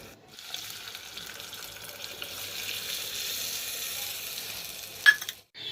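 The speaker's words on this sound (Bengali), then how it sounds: "এবার ভাতের মার দিয়ে দিব।" Rice starch water poured into simmering tomato dal, a soft rushing sizzle and bubbling that swells gradually, with a brief sharp clink near the end before cutting off; no talking.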